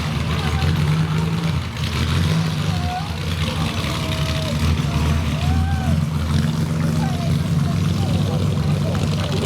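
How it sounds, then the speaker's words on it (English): A restored classic Ferrari, a 225S Berlinetta Vignale, gives a steady, throaty exhaust drone at a car show. A voice talks over it now and then. "Listen to that exhaust note"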